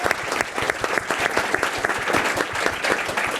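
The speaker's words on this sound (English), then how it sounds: "You've done really well for applause this afternoon." Audience applause after a panel discussion at a women's conference, a brief burst of steady, close clapping from a seated crowd, bright and even throughout with no voices over it.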